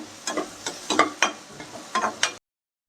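Onions sizzle and crackle in a pan while a utensil stirs them in repeated scraping strokes, close by, then the sound cuts off.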